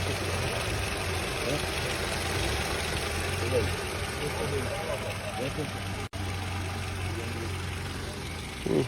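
A steady, low idle from a Toyota Camry engine at a car market in Georgia hums on at a constant pace, quiet, with a brief click partway through and some faint talk.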